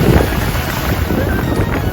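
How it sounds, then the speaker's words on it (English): Big waves breaking along open water, a steady loud broadband wash mixed with gusting wind buffeting the microphone, continuous and close, with no talking. "See how big the waves are?"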